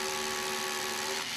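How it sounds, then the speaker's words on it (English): A power drill drilling an anchor hole into concrete whines steadily at a constant high pitch, grinding continuously for a short stretch with no voices. "Drill the hole to the specified diameter and depth"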